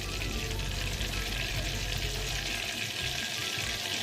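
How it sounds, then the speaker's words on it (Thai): Thai-style omelette sizzling in hot oil while a spatula presses the oil out of the egg, a dense, steady frying hiss close to the pan with no talk. "เราตักขึ้นเสร็จแล้วใช้ตะหลิวนะคะ กดเอาน้ำมันที่ไข่ออกนะคะ"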